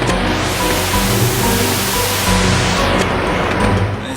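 A water spout in the Klonoa: Door to Phantomile video game gushes with a loud, continuous roaring rush, dense and unbroken like a waterfall, with no talking.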